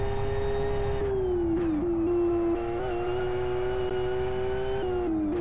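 Race car engine in a SuperGT racing video game at the Fern Bay track, a steady, loud engine drone with slight pitch dips as the car shifts and corners, with no talk.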